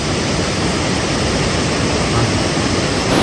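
A small forest waterfall pours steadily nearby, a dense continuous rush of falling water with no break, fairly loud and alone without voices.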